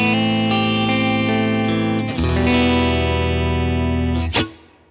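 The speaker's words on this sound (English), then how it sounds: "So this is what it sounds like. Just the reverb is on." An electric guitar played through a Fractal Axe-FX III with only a subtle gold plate reverb rings out in sustained, loud chords, changing once midway and ending with a sharp strum that decays into a short tail.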